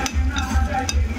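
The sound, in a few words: green and dried chillies with cumin and garlic frying in a pan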